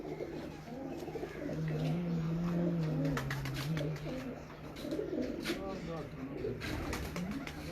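A pigeon coos on a rooftop in Sialkot, a soft, low rolling call in the middle stretch, with quiet background noise and faint voices around it.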